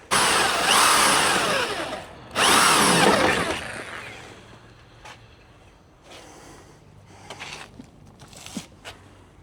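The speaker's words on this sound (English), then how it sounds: "we'll get the drill and we'll spot all these holes all around the frame" A power drill with a 6mm bit spots holes in a Land Rover Defender frame in two loud, close whining bursts of a couple of seconds each, followed by quieter handling clicks and faint knocks.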